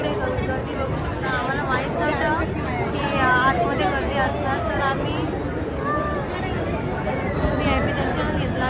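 Dense crowd babble of many overlapping voices in a temple queue at Tuljapur, steady and close all around, with no single voice standing out.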